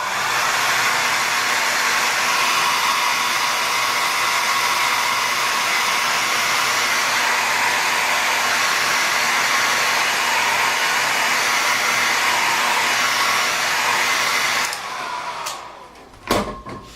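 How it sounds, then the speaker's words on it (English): A hair dryer blows steadily and loudly for about fifteen seconds, used in a relief carving session, then switches off abruptly, leaving a few faint clicks and handling knocks. "I'm going to hit the hair dryer."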